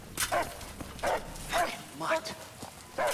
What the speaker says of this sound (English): Damn dog's gonna give us away.